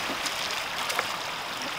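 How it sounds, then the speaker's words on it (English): Mountain river water rushes over rocks in Stanislaus National Forest, a steady close wash of flow with small splashes and gurgles, no voices. "You can drink that water, it's river water."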